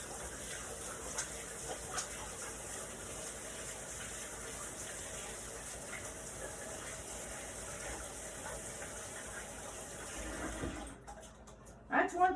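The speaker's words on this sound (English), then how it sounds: "let me wash my hands" Water runs steadily from a kitchen tap for about ten seconds while hands are washed beneath it, a continuous broadband gush, before the flow cuts off and a few handling clatters follow.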